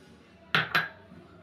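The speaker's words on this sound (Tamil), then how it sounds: "இப்போ வந்து மாவு வந்து மிக்ஸ் பண்ணிக்கலாங்க." A utensil strikes a bowl of samai, varagu and ragi millet flour being mixed, giving two quick, bright clinks a moment apart over a quiet background with no talking.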